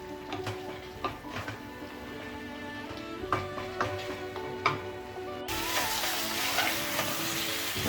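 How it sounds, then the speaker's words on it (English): Lamb chops frying with masalas over a high flame, a steady close sizzle with repeated scrapes and knocks of a stirring utensil in the pan, growing louder and denser toward the end. "I've been frying the lamb chops along with the masalas for almost 10 minutes on high flame, and continuously I'm stirring it"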